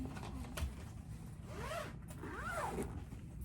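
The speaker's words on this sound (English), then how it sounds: "Zip, zip, zip, zip, zip." A zipper on a handmade bag is pulled open and shut again in two quick rasping strokes, close up over a faint background hum with no talking.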